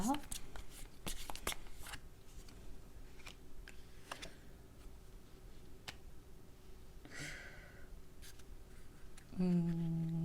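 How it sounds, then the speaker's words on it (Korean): Tarot cards being shuffled and drawn for a couple's reunion reading: soft papery riffles and flicks with a few sharp snaps, fairly close and quiet, ending in a brief steady tone near the end. "좋은 카드 두 장만 더 뽑아볼게요"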